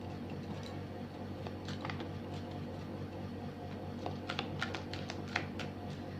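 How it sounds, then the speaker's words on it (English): A Rider tarot deck is shuffled and cut, giving soft, rapid card riffles and patters that grow into a cluster of crisp clicks toward the end, close and quiet without talking. "shuffle, I'll cut the deck, pull the top cards"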